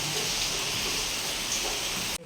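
Rain falls at night during a power cut, a dense, steady hiss close by that cuts off abruptly just before the end.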